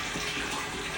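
Water pouring steadily into a lawn sprayer tank while liquid fertilizer is mixed for tall fescue turf, a continuous close splashing rush with no pauses and no talk.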